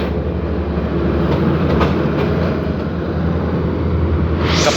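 A diesel railcar rumbles past close by, a steady loud low drone with faint rhythmic clatter, rising hiss near the end.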